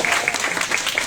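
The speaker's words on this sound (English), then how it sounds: "Give her applause, okay?" Applause from a class or workshop audience for a participant, a short burst of moderately close, evenly spread clapping from a modest group.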